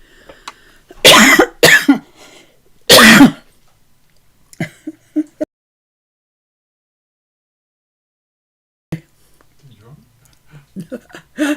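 Several loud, harsh coughs burst out close up, followed by quiet pauses and a bit of soft talking.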